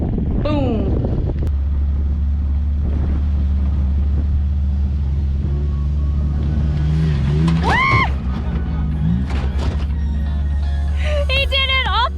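Jeep Wrangler on 37-inch Atturo tires driving off-road over a small jump, a steady low engine drone with revving swells and wind buffeting, while people talk and shout excitedly over it.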